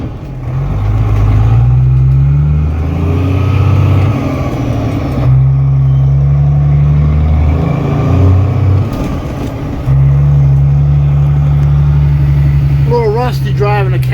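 A 1991 Peterbilt cab-over truck with cable shifts drives through the gears, its loud, deep engine drone rising and dropping between shifts while someone talks over it.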